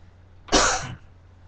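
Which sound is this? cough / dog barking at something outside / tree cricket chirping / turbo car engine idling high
cough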